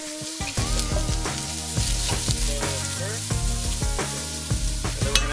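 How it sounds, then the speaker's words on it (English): Onions sizzle in oil in a pot over medium heat, a steady hiss running beneath loud rhythmic background music that dominates throughout. "We're gonna add the oil and the onions going first. You wanna hear that sizzle?"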